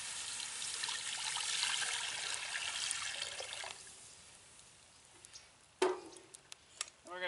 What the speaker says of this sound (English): We're going to pour a little water.